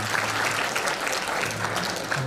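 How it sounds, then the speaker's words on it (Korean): A hall full of guests applauds a welcome at a Korean Christian association's inauguration and New Year greeting ceremony, the dense, steady clapping running the whole stretch without talk. "박수로서 환영합니다"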